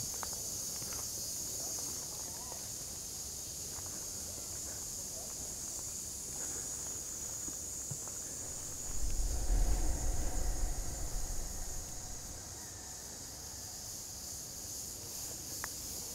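Cicadas droning at dawn on a rural walk, a steady high-pitched buzz over soft background noise, with a brief louder rustle partway through.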